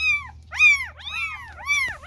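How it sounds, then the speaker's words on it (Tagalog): A dog's yelping, whining barks come through a radio, four or five rising and falling cries in a row over a low background hum. "Aso sa radyo, no?"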